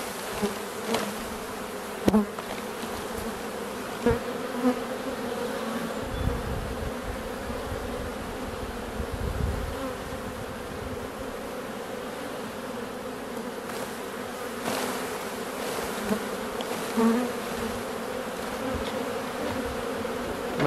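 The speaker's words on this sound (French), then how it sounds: "Ma tasse d'abeilles." Continuous buzzing of many bees fills the air, a steady droning hum with occasional louder passes and faint knocks.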